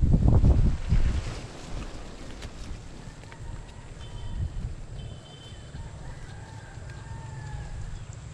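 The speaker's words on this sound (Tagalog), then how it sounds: "Grabe lakas ang hangin." Strong wind buffets the microphone in heavy low gusts, loudest at the start, then a steadier rushing blow with a distant rooster crowing faintly.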